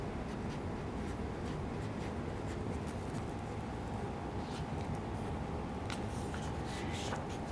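Pen writing on paper while working a studs and plates calculation, a steady soft scratching and rubbing that runs continuously, close and fairly quiet, with no talk.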